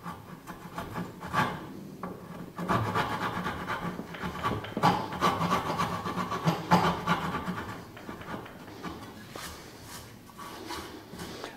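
Coarse rasp strokes scrape across wooden stool corners in an uneven rhythm, close by and fairly loud, with brief pauses between bursts of filing.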